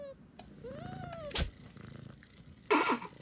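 Cats in the South Park video game make a rising, wavering meow and soft purring, followed by a brief sharp knock and a short burst of scratchy noise, all fairly faint over low background sound.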